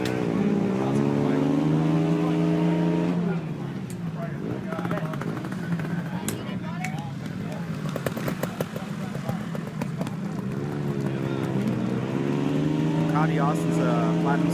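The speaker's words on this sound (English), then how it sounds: "There are burnouts going on in the background." Motorcycle burnouts at the Harvest Classic European and vintage motorcycle rally in Luckenbach, Texas, with engines revving and wailing in sustained pitch-rising bursts in the background and crowd noise throughout.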